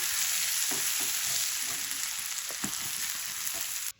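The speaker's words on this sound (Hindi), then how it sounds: "अब नमक मिर्च डाल के तो 2 मिनट इनको फ्राई करेंगे" Potatoes seasoned with salt and chili fry in a pan, giving a loud continuous sizzle with occasional stirring scrapes, alone and close, cutting off abruptly at the end.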